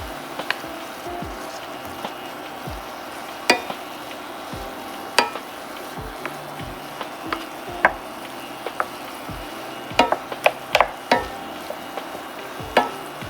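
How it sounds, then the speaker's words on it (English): Seasoned 90/10 ground beef mixture browning in a pan, a steady soft sizzle with scattered clicks and scrapes as a utensil stirs and knocks against the pan, no voices. "we're going to go ahead and brown this ground beef mixture"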